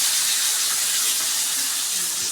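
Chopped tomatoes sauté in a pan for a pidikarunai kara kuzhambu, giving off a loud, steady, close sizzling hiss that holds evenly with no voices.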